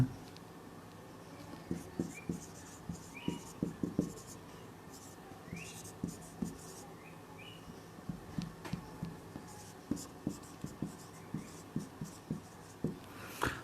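Steady writing strokes scratch across a board or page during a chemistry lecture on surface chemistry, coming as rhythmic, close scrapes and taps for the whole stretch, with no talking.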